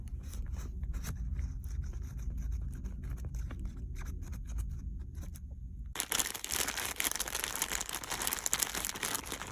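Soft crinkling, squishing handling of a foam air filter as it is worked with oil on a 2007 Thunder Tiger EB4 S3 4WD nitro buggy, continuous close rustle that grows brighter and denser in the final seconds.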